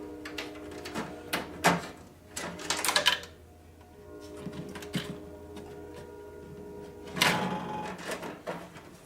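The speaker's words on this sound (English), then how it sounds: "screw in the ColorDMD. We'll just kind of, snug it down." Screws are driven into a ColorDMD display on a Williams WPC-95 pinball machine by hand, giving quiet clicks, scrapes and rattling taps in scattered bursts against a faint background hum.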